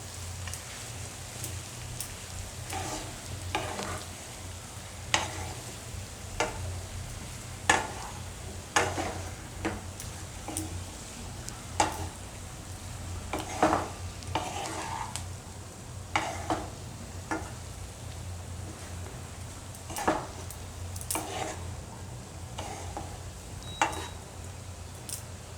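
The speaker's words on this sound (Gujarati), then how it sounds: "આ રીતે બરાબર મિક્સ કરી લેવાના." Beet poha with green coriander is stirred gently in a pan over low heat, a soft continuous sizzle punctuated by repeated light scraping and tapping of the spoon at irregular intervals, close and fairly quiet.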